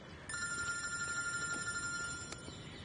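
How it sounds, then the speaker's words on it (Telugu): A phone rings with an incoming call, its electronic ringtone repeating clear tonal bursts at moderate volume against a quiet room, with no one speaking. "హే, తారా కాల్ చేస్తుంది, ఆగు."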